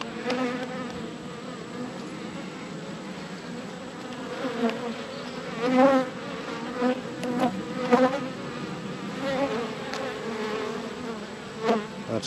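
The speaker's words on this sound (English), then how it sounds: "Lots of young bees." Honey bees buzzing inside an open beehive full of honey and young bees, a dense continuous droning hum with swelling passes of individual bees near the microphone.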